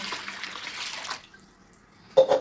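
Water pours into flour and salt for lahmacun dough in a gurgling stream that stops partway, then two brief splashes follow.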